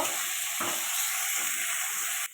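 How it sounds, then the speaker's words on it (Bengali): Cumin powder masala sautés in a pan for a fish curry with pointed gourd and potato, making a dense, loud, continuous hiss with a couple of stirring scrapes. The sizzle cuts off abruptly at the end. "জিরের গুঁড়ো, এটা ভালো করে কষিয়ে নেব।"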